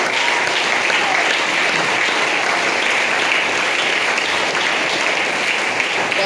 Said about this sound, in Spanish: Denle ese aplauso al Dios de la gloria.